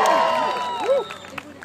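A crowd at an Obama campaign rally at UCF cheers in a short burst of whoops and shouts with individual voices rising and falling, briefly, before fading into scattered calls.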